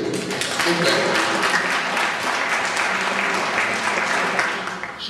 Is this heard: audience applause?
yes